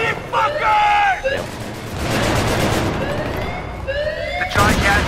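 Battlefield 3 grenade blast amid battle: a loud, close broadband explosion roar dominates the middle, with whistling, siren-like tones and gunfire bursts around it and a voice shouting over the action.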